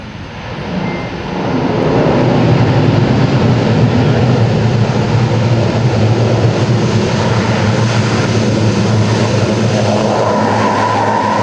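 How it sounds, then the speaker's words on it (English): A C-130J-30 Hercules military transport lands at an air show with its propellers in reverse thrust, a loud, close, rising roar of engines and props that swells quickly and holds as a heavy drone. "listen to the sound of the engines and propellers as they use the reverse thrust and full anti-skid brakes"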